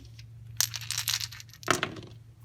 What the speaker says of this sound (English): So now I'm going to fire by rolling all these dice against the sun spider.